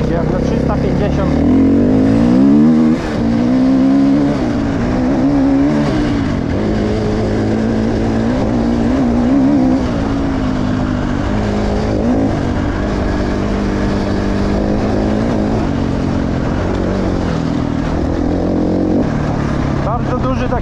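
A KTM EXC 350 dirt bike engine revs and pulls hard, a loud, continuous buzzing drone that rises and falls in pitch as the throttle opens, close by for the whole stretch with no pauses.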